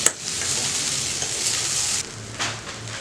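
Idli upma being stirred in a frying pan gives a steady hissing sizzle with faint scraping strokes, close and continuous, with no talking.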